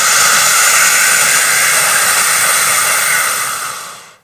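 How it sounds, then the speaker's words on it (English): A forceful inhale drawn through the mouth as if through a straw, a loud, close, hissing rush of air lasting about four seconds before trailing off. "the breath will sound like you're breathing through a straw"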